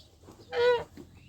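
A single loud, close squawking cluck from a hen, alone against quiet outdoor background on a farm in western Ukraine.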